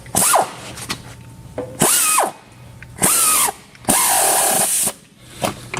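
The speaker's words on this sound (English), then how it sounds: "Reach in here with our ratchet." Hand ratchet working a portable ESCO bead breaker on a tyre, loud bursts of rapid ratcheting repeated four times with short pauses between, close by and with no talk.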